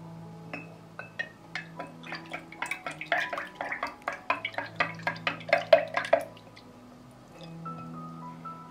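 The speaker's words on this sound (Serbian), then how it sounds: "I sve ću promešati." A spoon stirs milk mixed with iodine drops in a container, producing a run of quick, light clinking and sloshing taps that speed up in the middle, then fade.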